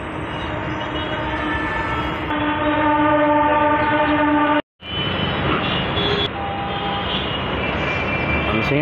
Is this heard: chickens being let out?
no